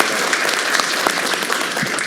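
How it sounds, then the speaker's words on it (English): A town council meeting audience in Fort Mill gives the History Museum a round of applause: steady, dense clapping from a roomful of people, continuous and fairly loud throughout. "Let's give the History Museum a round of applause."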